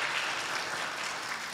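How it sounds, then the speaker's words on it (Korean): A church congregation applauds in welcome during a Sunday worship service, steady dense clapping throughout at moderate level with no break. "잠깐 일어나시면 박수로 환영해 주시기 바랍니다."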